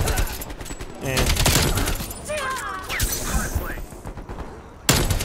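Rapid gunfire bursts from a first-person shooter video game, dense volleys with crashing impacts mixed under voices talking over the action, ending in a sharp loud burst.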